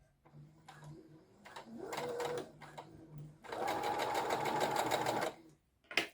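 A sewing machine stitches through a very thick seam on a Simplicity 1566 gilet, running in short bursts and then one longer steady rattling run, close and fairly loud with no talking.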